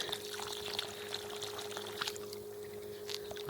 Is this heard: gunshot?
no